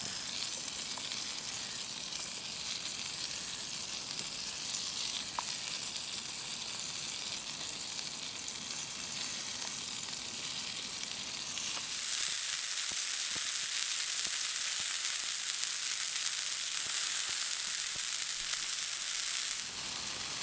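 Hot sausage and other ingredients fry on a Trangia Mini stove, giving a continuous close sizzle that turns louder and harsher about halfway through, then eases slightly near the end.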